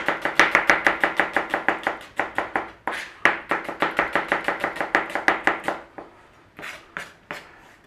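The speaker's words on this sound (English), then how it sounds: "We need to slice some onions." A knife slices onions on a board in quick, even chops, a close run of sharp rhythmic knocks that pauses briefly, resumes, then slows to a few scattered cuts.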